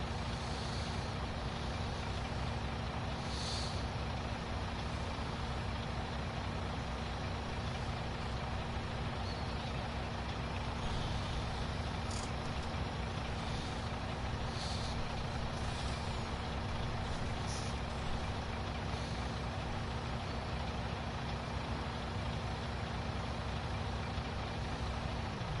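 A truck idling in a role-play driving game: a constant low engine drone with a steady hum runs throughout, with faint high clicks and hisses near the start and toward the middle, and no voices.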